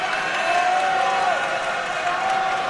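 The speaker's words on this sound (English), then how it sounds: "this crowd is on fire" A college volleyball crowd in the Trinity University versus Juniata College match keeps up a steady, dense roar of cheering and voices through the gym, loud and unbroken across the whole moment.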